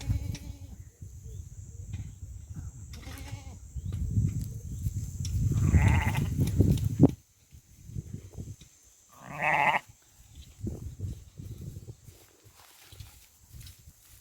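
Sheep and goats in a farm enclosure bleat now and then as a new sheep is introduced to the herd, with shuffling hooves and rustling between the calls, all at moderate distance.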